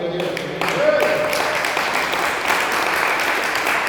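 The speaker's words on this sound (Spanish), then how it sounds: "denle un aplauso a Cristo" A church congregation claps for Christ during a training gathering in Naucalpan, a dense burst of applause swelling after a brief opening moment and holding steady and loud, with some voices mixed in.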